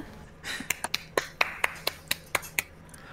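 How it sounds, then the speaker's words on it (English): A character in the video game Overwatch 2 claps in a quick, slightly uneven string of about ten sharp, crisp hand claps, heard alone. "He's clapping for himself."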